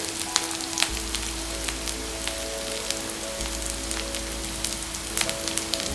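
Mixed vegetables frying on a tawa with spices added, a steady close crackling sizzle with scattered sharp pops throughout, accompanied by a low constant hum.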